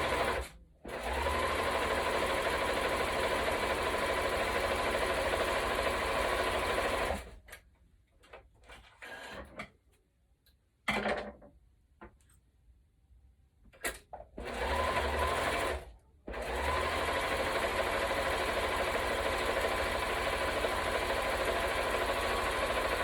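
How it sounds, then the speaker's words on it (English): A sewing machine stitching down the edges of a fabric face mask runs in long steady bursts of rapid stitching, stopping twice for quiet pauses with faint handling noises before resuming. "I'm going to take this over to my sewing machine and I'm going to sew down these edges."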